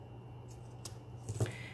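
Scissors trim a strip of ribbon in a few quick, quiet snips, faint and close, with a soft rustle of material in between and no talking.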